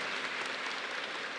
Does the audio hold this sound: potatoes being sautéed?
no